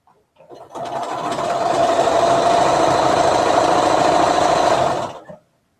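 A sewing machine stitches quilt squares in a single steady run of fast, even mechanical whirring that starts up and stops cleanly after about five seconds, close and loud.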